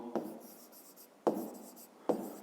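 A pen writes a number by hand on paper in three quiet, distinct scratchy strokes, each starting with a sharp touch and trailing off, close and alone.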